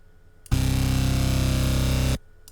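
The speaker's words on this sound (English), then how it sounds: "it got like pretty raw bass right here" A raw synth bass from the Spire plugin plays one sustained, loud, buzzy note for about a second and a half, with dense harmonics and a hard start and stop, and no talking.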